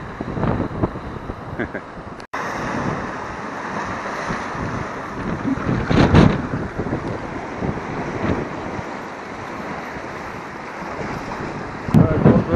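Wind gusting at a seaside slipway, buffeting the microphone with steady roaring noise and louder bursts, waves and water faintly beneath.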